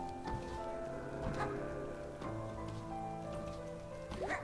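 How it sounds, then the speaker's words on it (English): Rain in the video game Night in the Woods patters steadily on surfaces, a continuous wash of drops with faint tonal game sounds layered underneath. "It's wet again, and I'm cold again. It's just rain."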